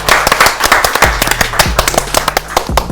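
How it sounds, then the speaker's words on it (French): An audience applauds a new columnist joining a French talk show, a lively burst of sharp, fairly close hand claps, uneven and overlapping, with no talk over it. "C'est Paul Lepage qui vient nous faire une chronique et on peut l'applaudir."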